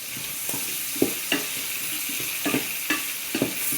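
Shallots and garlic sizzle steadily in a hot pan while being stirred, with repeated scraping strokes of a utensil about every half second, close and moderately loud with no talking.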